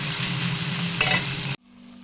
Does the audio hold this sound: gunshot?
no